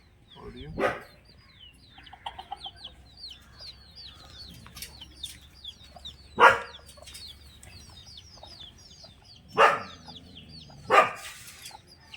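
Newly arrived hens on a backyard farm cluck softly and chirp in the background, with a few louder, sharp calls standing out, while a dog barks faintly somewhere nearby.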